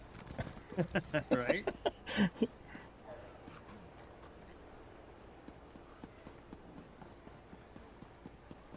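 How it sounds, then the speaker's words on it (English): Rhythmic clip-clop of a fire horse's hooves in the online fantasy game Elder Scrolls Online, a quick run of loud, close hoofbeats in the first few seconds that gives way to quiet background, with someone speaking briefly. "That fire horse, man."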